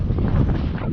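Wind gusting across a frozen lake during winter ice fishing, a steady low rushing roar buffeting the microphone throughout, with faint broadband noise and no clear voices.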